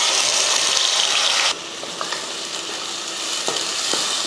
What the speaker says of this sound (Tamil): நல்லா பொன்னிறமாக வதக்கலாம்.